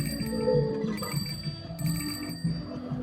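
Little bicycle bells ringing in the video game Tiny Bookshop, several bright tinkling rings repeating over a soft game background tune, fairly quiet.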